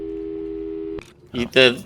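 A steady telephone call tone from the video game Portal 2 hums alone for about a second, then cuts off as a voice begins speaking.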